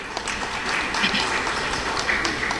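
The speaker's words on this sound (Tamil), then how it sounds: "அதுக்கு தான் நீங்கள் கைத்தட்டு கொடுக்கணும்." An audience at a Tamil pattimandram debate gives a round of applause, a moderate, somewhat distant patter of clapping that holds steady for a couple of seconds with no speech over it.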